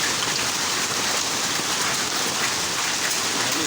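Steady rain pours down in a continuous dense hiss, close and even throughout, with no voices or other sounds.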